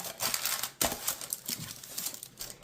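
Parchment paper crinkling and crumpling as it is pressed into a baking pan for pumpkin pie squares, a series of close, crisp rustles and crackles with a sharper burst near the middle.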